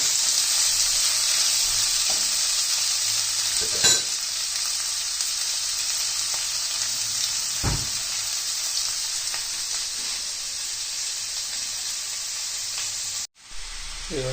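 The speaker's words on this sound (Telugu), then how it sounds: "వెజిటేబుల్స్ అన్నీ ఇందులో ఫ్రై చేసుకుంటున్నాను." Vegetables and green chillies frying in hot oil for a vegetable biryani, with cardamom already in the pan; a steady, close sizzle runs throughout with a few brief clatters and a short drop near the end.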